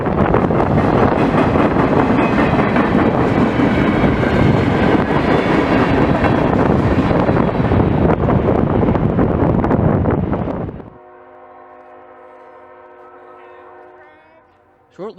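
CSX freight train pulled by two ET44AH locomotives on the Boston Line in West Springfield, Massachusetts in winter, a loud close roar of rolling cars with wind buffeting, then cutting off to a sustained horn blast.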